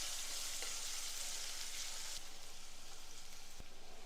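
Chopped onion sautéing in a pan after garlic and chillies, a soft, even hiss of frying that holds steady throughout with a couple of faint utensil taps, quiet and without voices.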